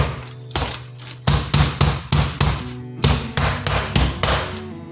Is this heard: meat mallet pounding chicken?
yes